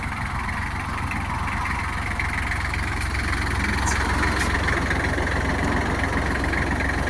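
A Kubota GL32 tractor with a roll bar runs continuously nearby, its diesel engine giving a loud, steady, low rumble with no pauses.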